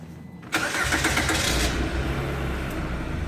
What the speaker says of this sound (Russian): Сейчас водитель сядет, заведет мотор и нажмет на газ.